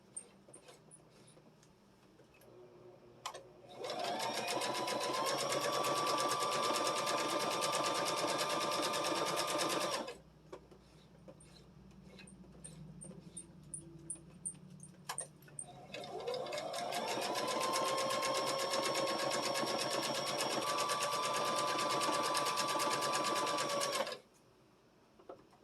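A sewing machine stitches a quilt block seam in two long runs, each a rapid steady mechanical whir that ramps up and cuts off, separated by a short pause with faint handling sounds.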